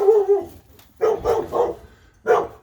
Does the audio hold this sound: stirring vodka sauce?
no